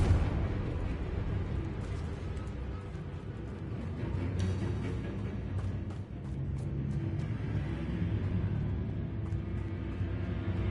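A Confringo blasting-spell explosion in the Hogwarts Legacy video game, a rumbling burst over a continuous low roar, followed by scattered crackling pops and debris.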